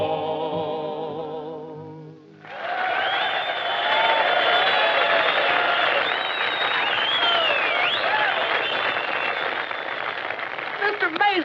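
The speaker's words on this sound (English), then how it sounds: "Mr. Maisley, did you hear that crowd cheering?" As a song ends, a large crowd at a show bursts into loud cheering, whistling and applause that carries on steadily with shouts rising above the clapping.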